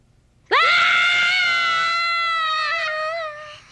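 Characters in the 1988 animated film My Neighbor Totoro let out a sudden, loud, sustained high-pitched scream that holds steady for about three seconds before tapering off.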